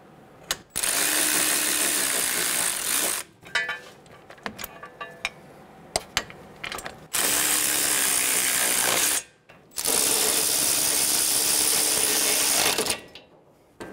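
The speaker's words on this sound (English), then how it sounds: "Snug the bolts down." Ratchet tightening caliper bracket bolts on a Hyundai Sonata, several long runs of fast close clicking separated by pauses and a few lighter metallic handling clinks.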